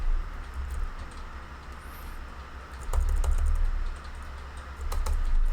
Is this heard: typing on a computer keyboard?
yes